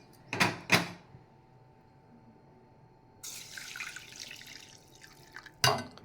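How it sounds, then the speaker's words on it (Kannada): Water is poured from a cup into a pressure cooker with a short splashing gush, bracketed by sharp clinks of metal vessels before and after, quiet and close in a kitchen. "ಈ ಬಟ್ಲಲ್ಲೇ 3 ಕಪ್ ನೀರು ಹಾಕಬೇಕು."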